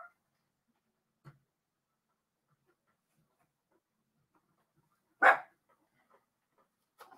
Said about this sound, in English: Holly, excuse the dog.